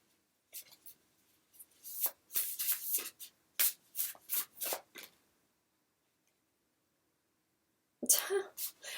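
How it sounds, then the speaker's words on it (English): Several quick, crisp bursts of card shuffling in a rapid riffling rhythm, followed by a pause and then a final burst of shuffling up close. "I just shuffled out a card right after I said that."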